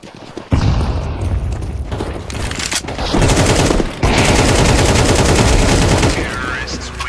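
Dense gunfire and explosive booms from the video game Counter-Strike 2 after a grenade is thrown, with rapid automatic bursts running almost nonstop and loud, a brief gap near the middle, and a voice underneath.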